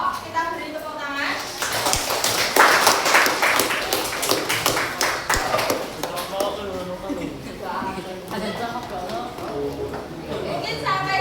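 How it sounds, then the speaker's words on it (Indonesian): Scattered clapping from students in a classroom builds quickly and then thins, mixed with lively chatter and voices talking over it throughout. "Kita beri tepuk tangan."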